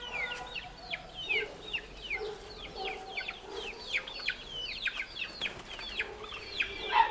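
Chicks and young hens of a double-body breed chirp in quick repeated peeps, with soft clucking from nearby fowl underneath, steady and close throughout.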